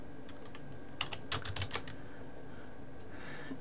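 Quiet keystrokes on a computer keyboard: a short burst of several clicks in the middle, then near silence, heard close with no talking.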